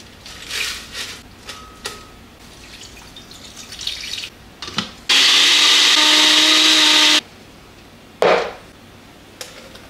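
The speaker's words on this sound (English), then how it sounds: "we're gonna throw it in the blender with either milk or water" A blender whirs loudly for about two seconds, blending diced ingredients with water, set between quieter kitchen clatter, a few knocks and drips.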